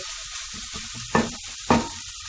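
Chicken spring roll filling fries with masala in a pan, holding a steady close sizzle while two louder scraping stirs stand out partway through, with no voices.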